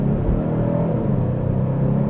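A 2025 Genesis G70 3.3T Sport Prestige accelerates at half throttle in second gear, giving a steady, loud low engine drone and road rumble heard from inside the cabin.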